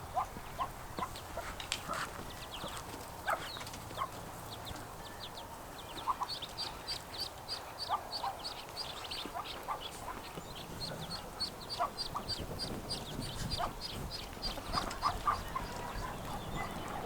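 Hens with newly hatched chicks make soft, scattered clucks and faint high peeping chirps that continue throughout at low volume.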